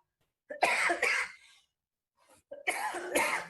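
Two separate bursts of coughing, each a pair of harsh, close coughs, separated by a brief pause.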